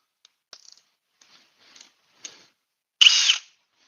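A Milwaukee cordless drill drives screws on a battery test: a few faint clicks and light handling taps come first, then one short, loud, harsh whirring burst near the end, with no talking.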